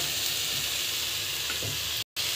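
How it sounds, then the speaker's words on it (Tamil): Tomato and brinjal sauté in oil for a village-style dry fish curry, giving a close, even sizzle with soft stirring touches. The sound breaks off briefly near the end. "நல்லா வதங்கட்டும்."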